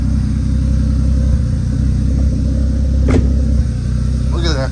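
A cold 300k-mile Jeep Cherokee XJ engine running on high idle, a loud, steady close rumble that holds throughout, with a brief sharp tick near the middle and a faint squeak at the end.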